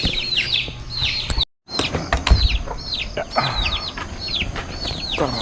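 Chickens cluck and chirp repeatedly nearby, a busy flock with short cackling calls, one brief dropout midway and faint background voices.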